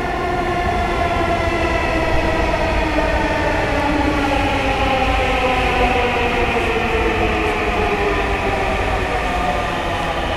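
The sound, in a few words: metro rail train arriving at station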